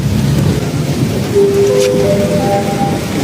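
Steady, heavy rain during flash flooding in Shah Alam, Klang and Petaling hisses broadly and continuously with a low rumble underneath, loud and close, while faint tonal whines drift in partway through.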